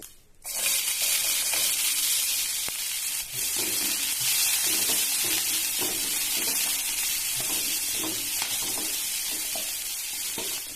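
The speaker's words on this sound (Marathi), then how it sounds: "फोडणीसाठी दोन चमचे तेल घेतलं आहे" Two spoonfuls of hot oil for a tempering, a loud, constant, close sizzle and crackle that starts abruptly and carries on unbroken, with faint clinks of stirring.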